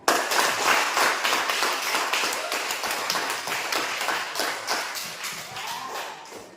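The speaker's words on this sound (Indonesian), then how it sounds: "Sekali lagi tepuk tangan." A room full of people applauding, a sudden start of quick dense claps that settles into a rapid even rhythm, close and sustained for several seconds before trailing off.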